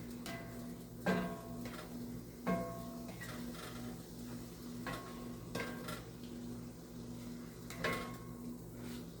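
Hash brown casserole tossed in a pan: irregular clattering knocks of utensil and pan every second or two over a steady low sizzle, with no voices.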